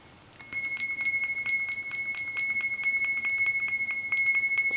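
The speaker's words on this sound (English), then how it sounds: "let me ring the bell a little bit." A small bell rings repeatedly during a sage-lit spiritual oracle reading, with clear high metallic tones struck in a steady rhythm and several louder strikes, sounding close and alone.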